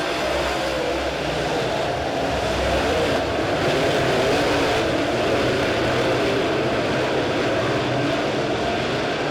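A-Modified race cars pack the dirt oval at Springfield Raceway during the Turkey Bowl XII A-Main, their engines a steady, loud, continuous roar from start to finish with no voices over it.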